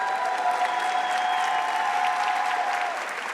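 An awards-night crowd at the New York City Imagine Awards gives its finalists a thick, continuous round of applause that holds steady, then eases slightly near the end, with a faint sustained tone running beneath.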